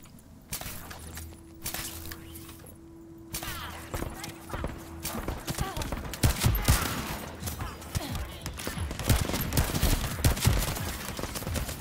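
Gunfire from a shotgun and a sniper rifle in The First Descendant video game, a busy mix of sharp shots and clattering impacts, loud and dense, building in intensity over a steady game background.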